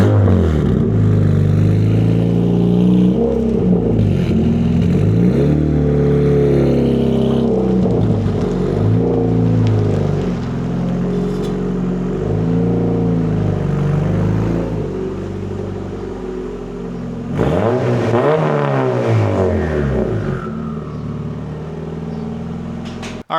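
A turbocharged Honda Civic engine idles and revs up close, rising and falling in pitch several times as the car pulls into a garage, loud and without talk.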